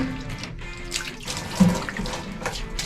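Water flows steadily at a mountain spring in Gunungkidul, a continuous close rushing and splashing with a brief louder gush partway through and no voices.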